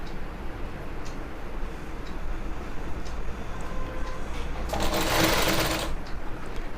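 A sewing machine stitching pleats on gathering pants runs with a steady rapid ticking hum, growing louder and brighter in a short burst near the end.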